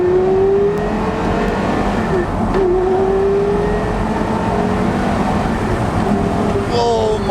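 A Porsche supercar, either a Carrera GT or a 918 Spyder, accelerates hard with loud, rising engine howls and gear changes, recorded close with a brief tire chirp.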